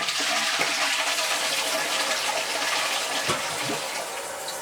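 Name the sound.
toilet being flushed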